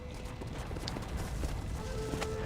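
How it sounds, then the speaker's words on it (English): Horse hooves clip-clopping in the Red Dead Redemption video game, a steady muffled trotting rhythm blended into a dense, continuous wash of game ambience. "Hey, come back here, horse."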